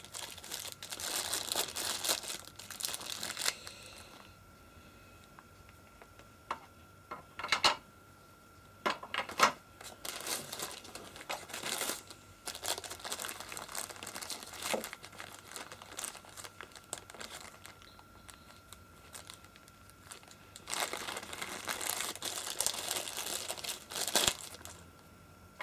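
Bass neck parts sealed in plastic bags are handled, giving close crinkling and rustling in several bursts with quieter pauses between them and no speech.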